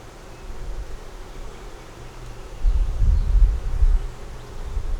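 Honey bees buzz steadily around an opened hive as it is reassembled, a dense low drone close by that swells louder near the end, with no talk.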